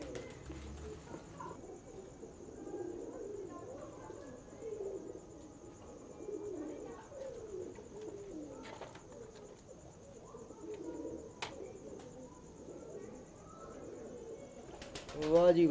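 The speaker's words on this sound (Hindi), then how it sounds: "ये मेरे बड़े प्यार वाले कबूतर हैं।" Pigeons coo in low, soft, repeated calls that keep going from start to end. They sound nearby but fairly quiet.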